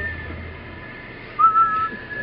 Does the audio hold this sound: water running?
no